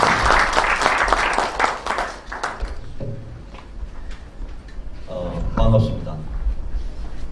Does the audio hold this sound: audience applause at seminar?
yes